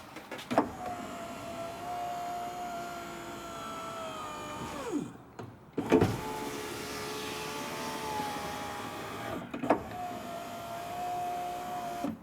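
An electric window motor in a BMW E36 whirs steadily as the repaired window travels through its tracks, running in three passes with short pauses and a thunk at each stop, close up with no talk.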